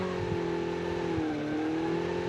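A vehicle engine in the Call of Duty video game hums steadily with a constant droning pitch that dips slightly midway, loud and alone with no talking.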